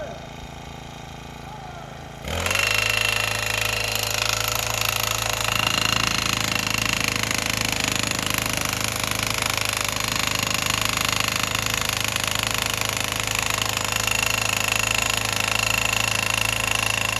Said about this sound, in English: He has got his T-post, gas-powered T-post thing, and you can probably hear it.